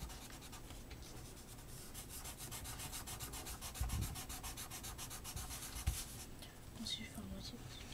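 Rapid back-and-forth strokes of coloring on paper make a close, continuous scratchy rubbing, with soft murmured speech now and then.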